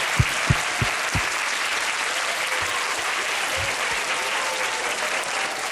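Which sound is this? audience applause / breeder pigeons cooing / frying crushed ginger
audience applause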